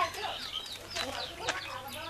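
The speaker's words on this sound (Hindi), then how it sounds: "और यहाँ पर मुर्गी और उसके प्यारे प्यारे चूजे।" A hen and her chicks in an Indian village in West Bengal, with thin, high chick peeps and soft clucks repeating close by and a sharper call near the middle, against quiet background and no speech.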